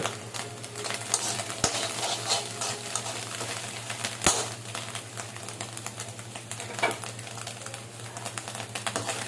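Ginger garlic paste frying in a pan for egg fried rice, a soft steady sizzle with light scraping and stirring clicks, close but fairly quiet, a low hum underneath and no voice.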